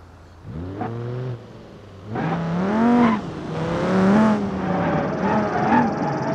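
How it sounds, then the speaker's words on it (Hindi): A cartoon Bolero car drives past, its engine whirring as it revs up in rising and falling pitch sweeps, with short bursts of acceleration growing louder after a brief lull. "कितनी प्यारी सी प्यारी बुलेरो गाड़ी है"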